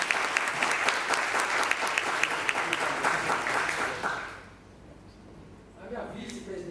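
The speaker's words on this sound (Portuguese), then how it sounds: "uma salva de palmas" Sustained applause from a lecture audience at an OAB Taubaté event, dense and steady for about four seconds before fading, with a few voices and murmurs as it tails off.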